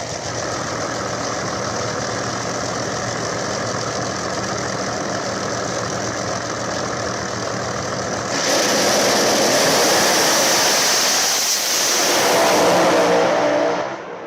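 Drag race cars in a final round, one of them a screw-blower car, roar steadily at a distance before the engine noise swells sharply louder and rougher partway through, then surges again near the end, with no talking.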